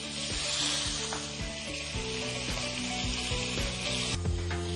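Pork tenderloin browns in butter in a hot pan, giving a steady close sizzle with a spitting hiss throughout, and light scrapes and clinks of stirring sound over it.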